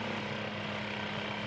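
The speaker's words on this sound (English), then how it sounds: "The chopper's damaged. It's gonna struggle to stay in the air." A damaged helicopter struggling to stay airborne in a video game gives a continuous, droning engine and rotor hum with a steady low throb, fairly loud and unbroken over the short stretch.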